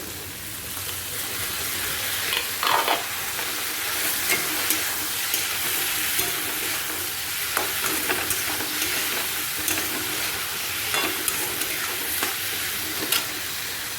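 Spices and tomato fry with a constant sizzle in a pan, while repeated stirring adds soft scraping and clinking at an uneven pace, close by and without speech.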